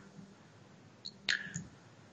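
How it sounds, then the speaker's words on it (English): A few sharp, faint clicks of a computer mouse button in a quiet room, with one louder click near the end followed by a short trailing rattle. "I'm clicking a button here."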